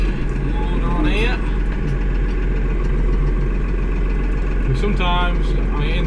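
A farm tractor, hitched up for spreading fertiliser, idles with a loud, steady low diesel throb throughout, while brief chirps and short voices cut in over the engine.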